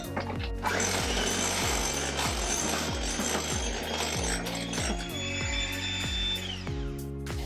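Peanut butter cookie ingredients are mixed in a kitchen, with a close, rhythmic, geared clicking that repeats about twice a second for several seconds.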